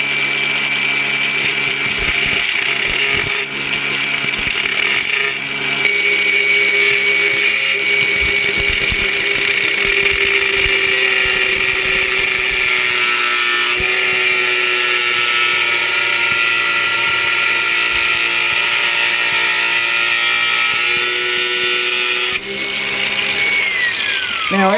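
A power tool cuts through a torque-to-yield head bolt with a loud, sustained high-pitched grinding whine that holds steady for over twenty seconds, pitch dipping briefly, before spinning down at the end.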